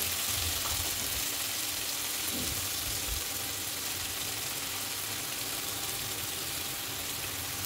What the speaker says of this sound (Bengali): এটাকে গরম তেলে ভালো মতো নাড়াচাড়া করে নেব